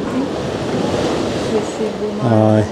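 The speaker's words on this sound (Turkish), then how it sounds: "Dalgaların sesi geliyor." Sea waves break against the shore below a coastal hiking trail near Kaş, giving a continuous broadband wash of surf mixed with wind noise, while a brief spoken exclamation is heard near the end.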